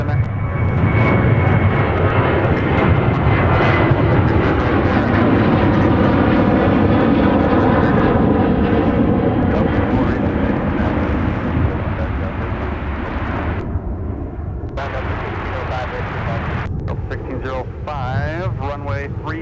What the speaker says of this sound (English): Sun Country Flight 9036 blasting off for the Music City of the United States.